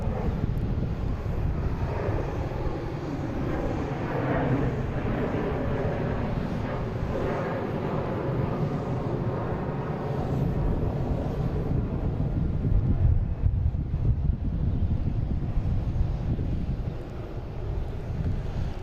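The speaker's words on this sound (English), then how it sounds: "next taking off is Delta, heading to Fort Lauderdale, 737-900, flight 2196" Delta Boeing 737-900 on its takeoff roll at Boston Logan International Airport, a loud, continuous jet engine roar with wind buffeting on the microphone that swells and holds throughout.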